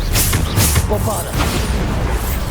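The Bombarda blasting spell in the video game Hogwarts Legacy goes off as heavy booming explosions. Dense, rumbling bursts of noise come one after another at close range, with some game voices mixed faintly underneath.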